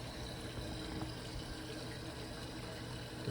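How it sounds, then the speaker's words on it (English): Cold water rushes into a Kenmore washing machine through its fill valve, a steady, faint hiss of flowing water with no breaks, heard alone. "the cold water is coming in."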